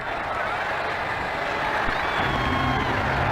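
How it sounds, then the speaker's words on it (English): Crowd applause and murmur in an Ashes Cricket 2009 match, a steady dense wash of clapping and stadium noise held at an even level throughout. "Crowd are giving him a warm round of applause"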